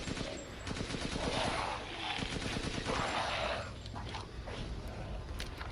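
Rapid, continuous gunfire in the video game Resident Evil Village, loud and dense for several seconds and then briefly easing off.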